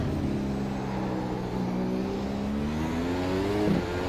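McLaren-Honda MP4-30 Formula 1 car at Circuit of the Americas in a racing video game, its engine note climbing steadily under hard acceleration, loud and continuous throughout with no talking.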